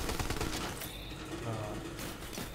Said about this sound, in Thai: เสียงปืนเนี่ยสะใจขึ้นกว่าเดิมมาก